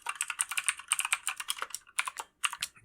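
Brisk keystrokes on a computer keyboard while entering a standard deviation formula in an Excel spreadsheet, with close, crisp clicks in quick irregular bursts and a short pause near the end, no voices.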